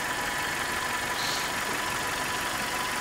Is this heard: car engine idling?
yes